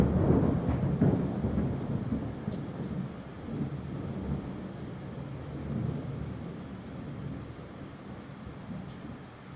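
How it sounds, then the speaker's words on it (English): A thunderstorm sound effect plays in an audio story: steady heavy rain falls throughout while thunder rumbles low and long, loudest at the start before easing back under the downpour, with no voices. "walking out into the rain"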